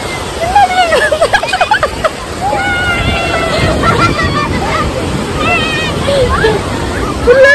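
Sea waves wash and slosh continuously at a beach, with surf noise filling the background while people talk and call out over it nearby.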